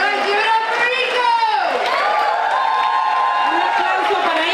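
An outdoor evening-concert audience at Evening on the Creek cheers and whoops loudly and continuously for a performer, with high shouts rising over a sustained roar.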